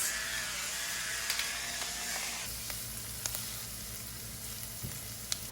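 Onions seasoned with salt and pepper sizzle and crackle steadily in a pan, a soft continuous frying hiss with occasional small pops and stirring clinks, fairly quiet, no talking.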